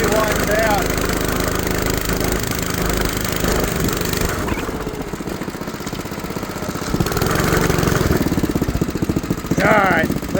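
A cheap go-kart engine with a holed muffler runs on a back yard dirt track. Its raspy small-engine drone rises and falls with the throttle, and faint voices can be heard now and then.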